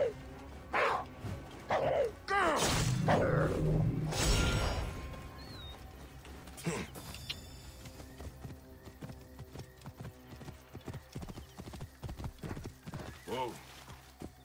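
Horse in Assassin's Creed Origins with hooves clip-clopping in a steady gallop and a neigh, loud early then continuing under game sounds and a voice.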